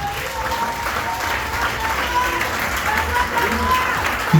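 A worshipping congregation applauds continuously in a church service, a dense, loud, steady clapping with voices faintly mixed in.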